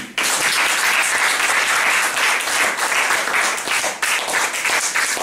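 A church congregation bursts into sustained, loud applause and cheering that fills the room and stays steady for several seconds.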